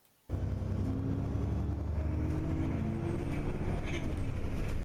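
A bus engine running in first gear, a steady low rumble with a faint tonal whine, moderately quiet and continuous with no talk.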